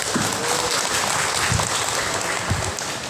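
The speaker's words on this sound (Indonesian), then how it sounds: "Kita kasih aplaus dulu untuk Kiai Irfan." An audience at a Darunnajah pesantren gathering claps steadily for a speaker, a dense sustained applause of many hands with a few louder individual claps standing out, no talk.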